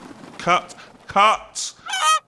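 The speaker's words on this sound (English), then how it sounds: "Swans, sir. And a couple of geese, and a penguin we borrowed from the zoo." Several loud, close goose honks in quick succession, four harsh calls separated by short pauses.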